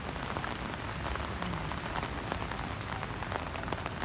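Steady rain pattering densely on a hard surface in Pasig City, Philippines, continuous and fairly close, with no voices.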